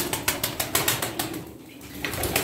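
Pigeons at a bird seller's place in Darıca coo and flap their wings in a busy mix of repeated bursts, fairly close and moderately loud, with no talk.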